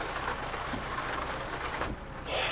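Dense rain hisses steadily while driving in a video game, a loud, even wash of noise. It dips briefly near the end and then returns louder, with no talking.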